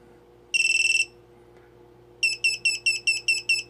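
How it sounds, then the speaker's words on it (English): A short burst of rapid electronic beeps from an ARRIS X110 device, a pause, then a steady train of repeated weak high beeps, each a quick cluster, fairly clear against a quiet hum. "And we've got that weak beeping."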